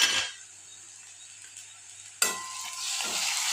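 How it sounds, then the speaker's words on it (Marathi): A paste of green chili, ginger and garlic fries with onion as it is stirred in a pan for sev tamatar sabji, with a loud hiss at the start, a quieter stretch, then a sharp stir and a renewed sizzle. "हलवून घ्यायचं।"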